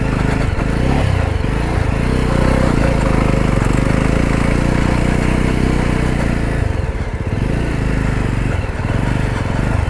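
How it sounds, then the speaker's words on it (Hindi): A Jawa motorcycle rides off-road up a hilly trail, its engine loud and close with a steady low rumble throughout, dipping briefly near the end. "ये इतनी एडवेंचरस राइड बाइक से पहली बार कर रहा हूँ।"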